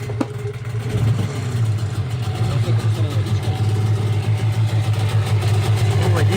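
A Sharmax 9.8 outboard boat motor fitted with a Mikatsu impeller runs steadily, a loud low droning engine tone with a fluttering beat that holds constant throughout, heard up close with some splashing water around it.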